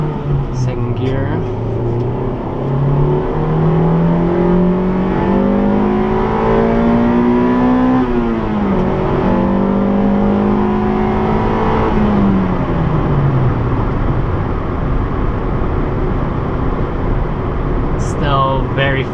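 A stock 2000 Acura Integra GSR pulls hard in second gear, its engine note climbing steadily in pitch for several seconds before easing off, heard from inside the car with a driver talking.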